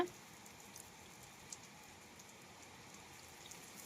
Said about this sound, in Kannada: ತಂಪು ಗಾಳಿ ಐತಿ ಮಳೆ ಐತಿ ಕೂಲ್ ಕೂಲ್ ಐತಿ ಸಿಕ್ಕಾಪಟ್ಟೆ